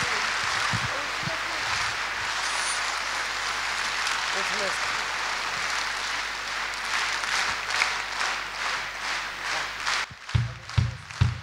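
Concert audience applauding a singer at an anniversary concert of a composer's songs; dense, steady clapping fills the hall for about ten seconds, then thins into a few louder, separate claps near the end.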